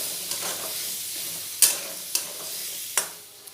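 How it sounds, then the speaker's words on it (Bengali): Potatoes stirring and frying in a pan with turmeric and salt, a steady soft sizzle broken by a few sharp scraping clinks of the spoon against the pan, close and alone. "দিয়ে নাড়াচাড়া করে আলুগুলো খুব ভালোভাবে ভেজে নেব।"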